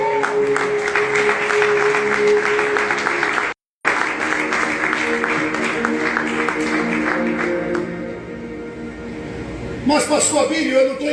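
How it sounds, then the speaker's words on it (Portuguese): A church congregation applauds during a sermon, a broad, sustained clapping crowd with a tonal musical hum beneath, a brief dropout partway, and voices rising near the end. "Pode aplaudir, fica à vontade."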